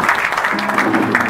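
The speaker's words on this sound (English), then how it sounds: "Clap for him, for him." Church congregation clapping for a pastor, a brief burst of close, loud clapping with voices mixed in.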